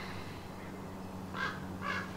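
Parrots squawk outdoors, two harsh calls at a distance over a low steady background hum, with no voices.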